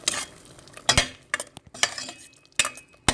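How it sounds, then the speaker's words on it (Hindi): Meat is stirred into masala in a metal pot: a spoon scrapes and clanks against the sides in a few sharp, irregular strikes over a faint sizzle. "अब हमने इसमें गोश्त डाल दिया है।"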